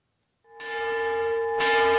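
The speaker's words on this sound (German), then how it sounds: "Die mahnende Glocke vor dem Nirosta-Werk in Krefeld gebracht hat sie wohl nichts." A large bell rings out in front of the Nirosta steelworks in Krefeld: a sustained metallic tone with strong ringing overtones, struck again partway through for a second, brighter clang.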